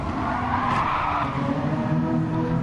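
Renault Megane Trophy race cars grind through a corner with a steady, loud tire skid and engine roar, a brief brush of contact between the cars buried in the continuous din.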